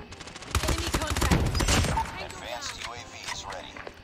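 Kilo 141 assault rifle gunfire in a shooter game, rapid full-auto bursts that crackle loudly at first and then thin into scattered shots as someone talks over the action.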